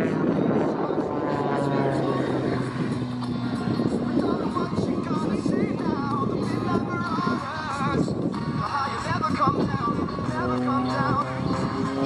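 A Red Bull Extra 300 aerobatic airplane performs at the 2024 London airshow, its propeller engine droning loudly and continuously with shifting pitch as it maneuvers, while a voice talks over it throughout.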